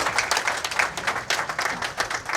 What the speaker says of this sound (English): Let's give these ladies a round of applause here.